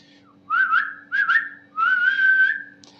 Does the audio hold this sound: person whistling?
yes